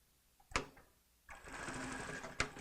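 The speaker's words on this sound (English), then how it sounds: "I'm going to stitch over the roll hem before I go back." A sewing machine stitches over a rolled hem on hammock fabric, a short burst followed by a steady, close whirring run of stitching lasting over a second.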